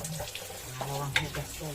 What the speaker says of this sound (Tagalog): Hugasan lang, hugasan lang guys.